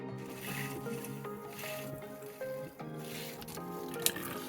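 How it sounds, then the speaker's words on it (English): Water squelches and trickles as a foot pump feeds fresh water into a small sink in an off-grid micro tiny house on a flatbed trailer, a soft, close, continuous splashing with faint squishy pumping. "There's my foot pump, and there's my sink and the foot pump."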